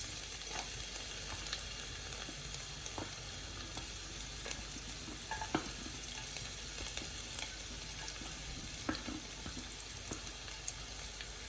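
Finely diced ginger, onion and garlic stir-fry in oil for crispy chilli beef, a quiet continuous sizzle with scattered clicks of stirring, no voices.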